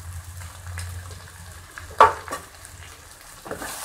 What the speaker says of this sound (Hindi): और अच्छी तरह चलाएंगे।